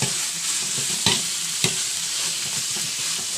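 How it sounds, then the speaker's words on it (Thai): Beef hind leg stir-fried in a pan for a spicy Thai-style curry, with a steady crackling sizzle broken by a few sharp scrapes and clacks of the utensil against the pan, close and continuous. "เราก็จะ ใส่เนื้อนะครับ ลงเป็นรวน เป็นเนื้อขาหลังนะครับ ก็ผัดต่ออีกนะครับ"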